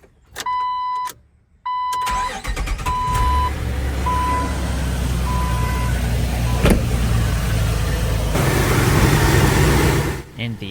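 Engine of a Jeep Wrangler TJ idling steadily after a new pulley and belt were fitted, a loud continuous low rumble following a brief silence, with electronic chime beeps early on and a sharp click near the middle.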